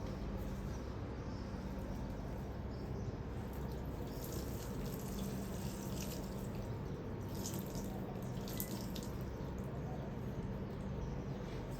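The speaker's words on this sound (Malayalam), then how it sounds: "വെള്ളം ഒഴിക്കാം. മാറി നിൽക്ക്." Water splashes and trickles steadily as a potted tulsi plant on a home balcony is watered, a close continuous pouring sound with no speech.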